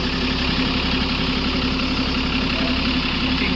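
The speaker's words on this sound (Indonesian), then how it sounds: "Nah, ini suara Hino RK8 ini yang terbaru dari PU Mutia." A Hino RK8 bus engine idling steadily with a low, even rumble and a constant hum, close and unbroken for a few seconds, with no voices.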